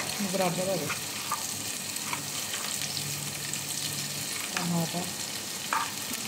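Brinjal pieces fry in a pan with a steady, close sizzle. Brief stirring scrapes and a few faint voices break in over the constant hiss.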